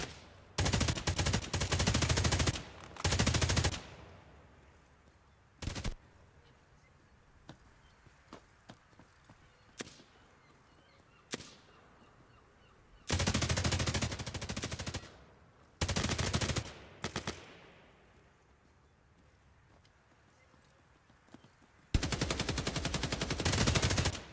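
Bursts of automatic gunfire in a free tactical first-person shooter game, several loud sustained volleys separated by quiet stretches with scattered single shots and faint footsteps in between.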